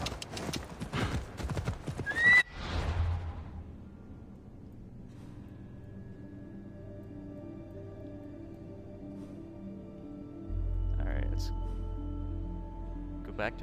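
In the game Assassin's Creed Odyssey, a horse's hooves clip-clop rapidly, then it gives a sharp neigh and slows to a halt, followed by a quieter ambient hum with scattered faint game sounds.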